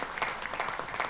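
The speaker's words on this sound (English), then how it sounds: "Round of applause for" Brief burst of audience applause at an entrepreneurship session, steady clapping from a room of people throughout, moderately loud with no talking over it.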